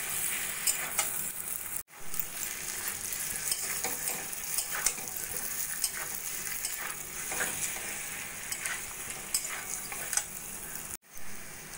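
Boiled, peeled potatoes fry with spices in a pan, giving a steady close sizzle with scraping stir strokes throughout, broken by two brief pauses.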